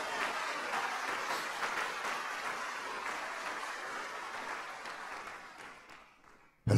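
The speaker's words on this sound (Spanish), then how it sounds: "dele ese aplauso al Señor" Church congregation applauding in a dense, continuous wash of clapping that gradually thins and fades toward the end.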